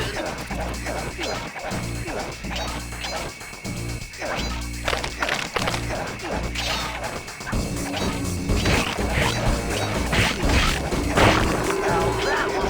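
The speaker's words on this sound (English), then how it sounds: "You smashed that gravestone, the ghosts stopped coming." A gravestone is smashed in the PS2 game Sly Cooper and the Thievius Raccoonus, repeated crashing whacks in an uneven burst, loud and close amid game effects and a yipping dog-like sound.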